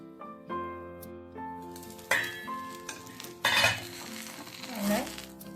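Rava appam flipped in a pan, soft sizzling with scraping and sharp metallic taps of a spatula against the pan, moderately quiet and close, without talk.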